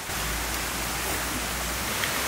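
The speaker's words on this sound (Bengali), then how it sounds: "এই বৃষ্টির মধ্যে দেখুন চারিদিকে বৃষ্টি হচ্ছে" Steady rain falling all around on a rainy day, a dense, even hiss with no breaks and nothing standing out, close and constant throughout.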